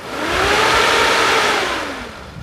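The engine of a 2004 Suzuki Katana GX, a car, revs once: a smooth rise in pitch and loudness, a brief hold, then a fall back toward idle, close to the microphone with no voices.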